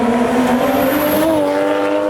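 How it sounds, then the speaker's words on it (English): A Toyota Chaser JZX100 with a 1JZ engine, a VAREX remote-control muffler and a full 3-inch stainless exhaust gives a loud, steady engine drone whose pitch rises and then settles, heard close up and alone. "we currently have a VAREX muffler and a full 3-inch stainless system all the way from the dump back, and it sounds awesome"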